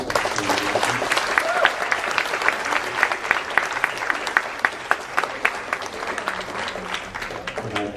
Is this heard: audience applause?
yes